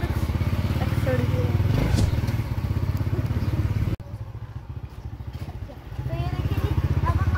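A motorcycle engine idles close by after being switched on, its rapid, even thumping holding steady with a brief dip in level partway through.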